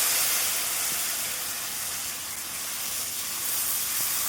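Ginger and cumin paste sizzles in hot oil for a Katla fish curry, a steady close hiss that swells and dips slightly and runs without a break, with no voices.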